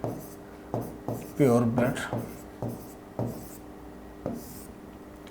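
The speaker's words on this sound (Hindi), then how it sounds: "इसको प्योर लिखते हैं इस तरफ हम लोग" Chalk or marker taps and strokes on a classroom board in a series of sharp, evenly spaced marks while a teacher speaks over the writing.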